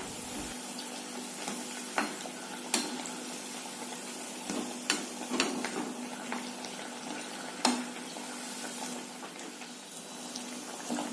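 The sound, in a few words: tapioca vada frying in hot oil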